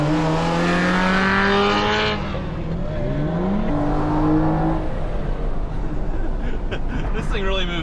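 A Ferrari 348 engine revs and accelerates, its pitch climbing through gear changes, loud throughout with voices talking over it.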